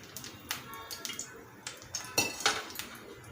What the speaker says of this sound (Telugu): ఇప్పుడు స్టవ్ ఆన్ చేసుకొని ఒక ప్యాన్ పెట్టుకొని ఫ్రైకి సరిపడా ఆయిల్ వేసుకోండి.